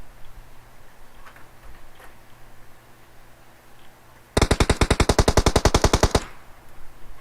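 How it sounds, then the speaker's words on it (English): Rapid automatic gunfire from an esports battle royale match, a dense burst of about two seconds of evenly spaced loud shots that starts abruptly after quiet background game ambience and stops sharply. "We hear gunshots already coming from QC 20-something."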